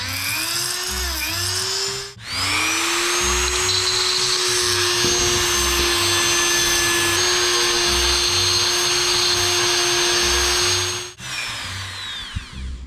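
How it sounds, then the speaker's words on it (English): Diamond-tipped carbide bit drilling into the centre of a broken bolt on a Honda CRF230F, a high steady power-tool whine held for about nine seconds between shorter bursts, close and loud. "So diamond tipped carbide bits drilling into the center of the bolt."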